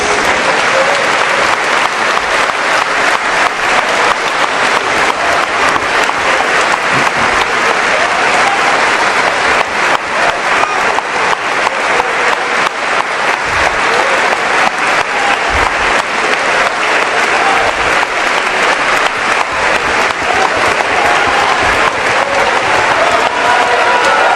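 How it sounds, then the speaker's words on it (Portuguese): A church congregation applauds together for a sustained stretch, dense, steady clapping filling the room at a loud, even level throughout. "nós vamos dedicar agora uns 15 segundos para aplaudir a justiça de Deus"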